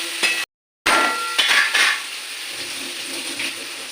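Puti fish and eggplant fry in a pan with a soft, uneven sizzle and occasional scraping or stirring clinks, interrupted by a short gap of silence, with no speech.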